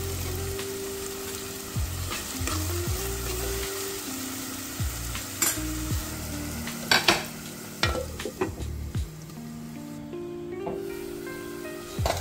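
Green chilies fry in a pan of oil for an egg and dried shrimp curry, a continuous close sizzle with repeated scraping stirs and light clinks of a utensil against the pan.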